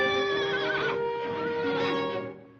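A stallion, imagined as a wild western horse, neighs in a loud, close whinny with harmonic, quavering pitch that holds for over two seconds before fading.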